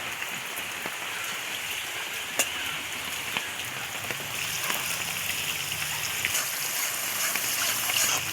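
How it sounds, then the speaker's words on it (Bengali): Steady rain falls throughout on a rainy day, making a dense, even patter close by with scattered louder drops. No voices are heard over it. "আজকে বৃষ্টি বাদলের দিন এখন বৃষ্টি পড়তেছে দিন ভর বৃষ্টি"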